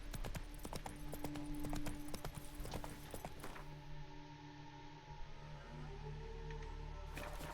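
Horse hooves clip-clop steadily in the Witcher video game, a brisk, close rhythmic gait, with a faint background hum and no talking.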